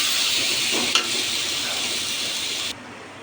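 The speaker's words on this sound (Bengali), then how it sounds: "সব কিছু ভালোভাবে মিশিয়ে নিচ্ছি" A banana and thankuni leaf mixture cooks in a pan, a soft hissing sizzle with a single stirring scrape, cutting off abruptly near the end.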